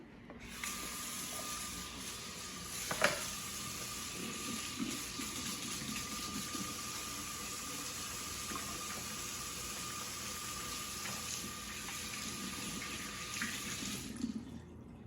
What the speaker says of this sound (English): Let's go ahead and wash our hands before we get started.